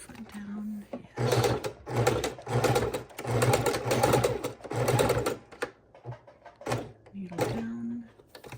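A sewing machine stitches through a paper junk journal cover in several bursts of rapid, buzzing runs separated by short pauses, with a quiet voice speaking in the gaps.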